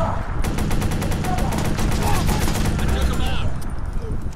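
Rapid enemy gunfire in the video game Watch Dogs, a dense run of repeated shots crackling steadily throughout, loud and close, with brief voices mixed underneath.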